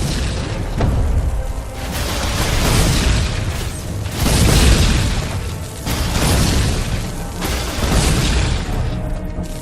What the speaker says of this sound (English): The creature brings fire!